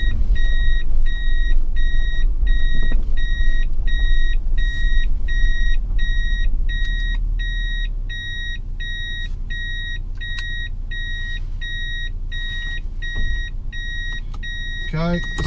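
A 1999 Toyota Hilux Surf SSR-X with a 3.4-litre V6 reverses, its regular high reversing beeps pulsing steadily over a low engine rumble that eases partway through, heard close up.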